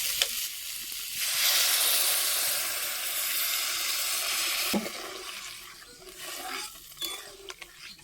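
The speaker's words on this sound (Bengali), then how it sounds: "এবারে আমি ঝোল দিয়ে দেবো" Liquid is poured into a hot pan of small-fish curry, setting off a loud hissing sizzle that swells, holds steady, then fades into gentle bubbling and stirring.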